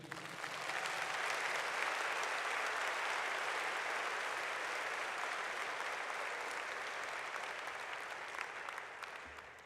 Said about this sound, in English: Huge applause, please.